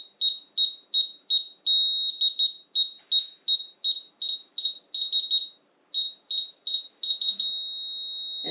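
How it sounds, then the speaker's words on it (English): A Johnson Level rotary laser detector beeps in rapid, evenly spaced bursts that sometimes run together into longer tones, then ends in a sustained solid tone. The beeps are clear, close and alone. "this is a detector. That's how you know you're getting close."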